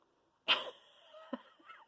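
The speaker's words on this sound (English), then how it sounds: "dog snoring." A dog close by lets out a sudden snorting breath with a whistling tail, then gives a few softer snuffles in an otherwise quiet room.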